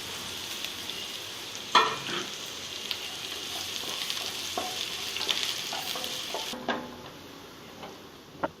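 Thinly sliced onions and curry leaves sizzle steadily in a pan, with a spoon scraping and stirring now and then over the continuous close frying hiss.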